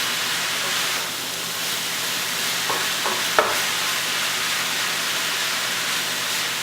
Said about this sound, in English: add your shredded spaghetti squash. Just kind of break that up a little bit. And you can toss this around as well.